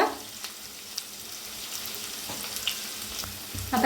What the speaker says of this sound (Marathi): तर तेल चांगलं गरम झालेलं आहे त्याच्यात टाकूया जिरं अर्धा चमचा कांदा बारीक कापून घेतलेला थोडंसं हिंग